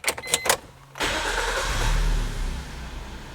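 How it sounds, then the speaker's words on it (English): A car engine cranks in a few short bursts, then catches and fires up, settling into a steady close running note that swells slightly after starting, following a crank-no-start fault cured by a relay replacement. "let's start up the car, and hopefully, fingers crossed, the engine will start right up"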